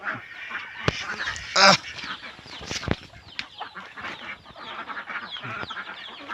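Native chickens and chicks on a small backyard farm: repeated clucks, squawks and honk-like calls, some loud and close, with scattered softer peeps in between and no speech.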